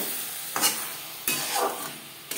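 Spices sizzle in a hot pan for Bhola fish curry as red chili powder goes in, with a steady fry hiss broken by three quick scraping stirs close up, no talking.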